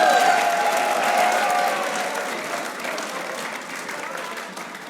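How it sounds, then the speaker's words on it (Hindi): A crowd at a team celebration for the Hyderabad Kingsmen applauds steadily, the dense clapping easing slightly in volume while a voice briefly cuts through at the start. "तालियां नहीं रुकनी चाहिए"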